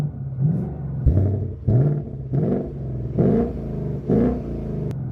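A V8 car engine in its loudest exhaust mode rumbles close by and gives six or so quick, punchy revs in a row, each swelling and dropping away, with no talking.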